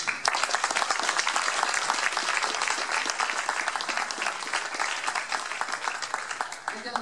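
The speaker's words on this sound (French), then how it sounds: "Je crois qu'on peut les applaudir aussi." An audience applauds the teachers at a public event with the French labour minister in Auch, steady dense clapping filling the room without a break.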